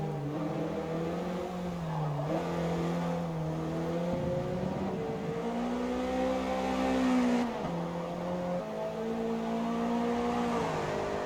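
Race car engine from a video game replay on the Nürburgring, a steady loud drone whose pitch climbs and dips through gear changes and revs, with faint tire squeal, running alone for the whole stretch.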